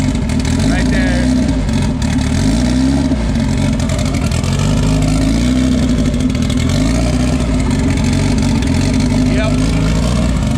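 A 1500hp car engine runs on a dyno, running lean low in the rev range with fuel spitting from the exhaust; it roars loudly throughout as the revs repeatedly rise and fall.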